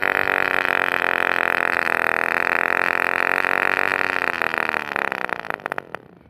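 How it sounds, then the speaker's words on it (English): A miniature nitro RC car's tiny engine screams at a steady high pitch, loud and close, then sputters and dies away in the final second. "I'm gonna see if I can speed up the motor RPM a little bit."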